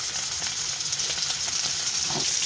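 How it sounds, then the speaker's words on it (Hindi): Chapli kebabs frying in hot oil in a pan, a steady close sizzle and crackle with small popping bursts that runs on evenly throughout, no voices. "हमारे कबाब देखें कितने अच्छे से फ्राई हो रहे हैं और ये बिल्कुल भी टूट नहीं रहे।"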